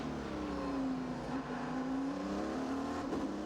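Race cars at the 2008 Le Mans 24 Hours circuit, engines droning steadily at high revs with a gliding pitch as cars pass, loud and continuous throughout.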